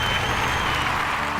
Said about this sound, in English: Everybody give Josh a round of applause.